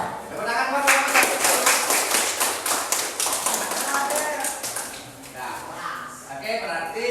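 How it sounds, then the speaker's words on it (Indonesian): Classroom applause for a student group that has just presented, dense rapid clapping from many hands for several seconds, tapering and briefly rising again near the end. "Tepuk tangan buat kelompok 1."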